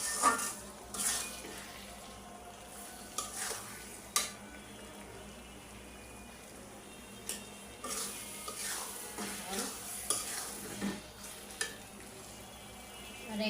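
Hog plum (amra) pickle cooking in a pan, soft low sizzling under intermittent scraping stirs and clinks of a spoon, fairly faint and close, with no talk.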